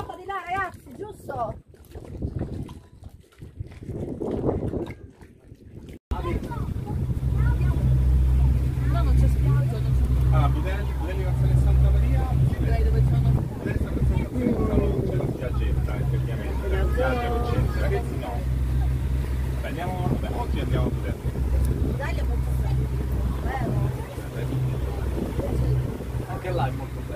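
A boat's engine drones low, loud and continuous after a brief quieter start, with people talking over it, on the water in Sardinia, Italy.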